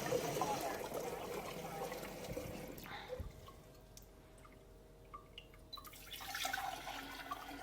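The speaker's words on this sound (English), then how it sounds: "let's fill up with a little bit of Kangen water." Alkaline water pouring from an Enagic K8 water machine into a container, a splashing trickle that thins to drips and quiet, then resumes, heard close up.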